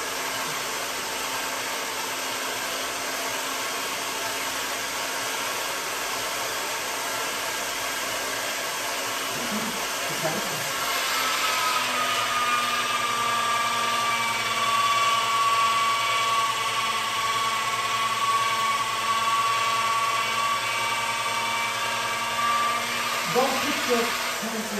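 An electric pasta machine runs steadily while fresh pasta dough is floured and rolled through it, giving a continuous close motor whine and hum that shifts slightly in pitch partway through and carries on without a break.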